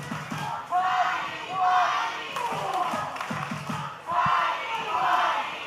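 Wrestling crowd at an OVW Independence Rage 2025 match chanting in loud rhythmic waves of massed voices, with a few thuds from the ring underneath.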